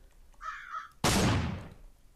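A bird caws loudly in the video game Pigout, a short raspy call followed by a sudden loud burst of noise that fades away, with no talking.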